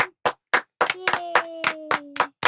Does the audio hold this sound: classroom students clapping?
yes